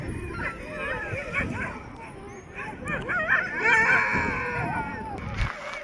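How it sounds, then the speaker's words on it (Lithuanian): Sled dogs in a Greenland village bark, yip and whimper loudly and continuously, several animals close by, with a person talking over the noise. "jau antrą dieną šunys taip garsiai skalyja"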